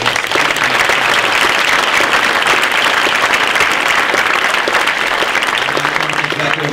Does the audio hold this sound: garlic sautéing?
no